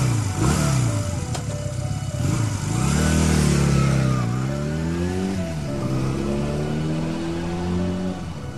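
A motorcycle engine revs hard and pulls away, its pitch rising and falling through gear changes, loud and close, with steady road noise beneath and no one talking.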